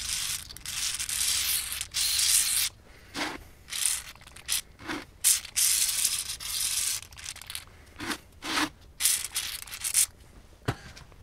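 Fluid Film corrosion inhibitor sprayed from an aerosol can onto brake parts of a first-generation Cummins truck: a series of loud, close hissing bursts of varying length separated by short pauses.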